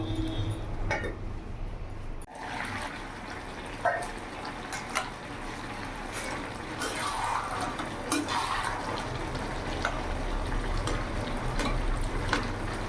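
A little water goes into a covered pot of taro curry with Malabar spinach. A short clink is followed by a steady, close bubbling simmer that continues throughout.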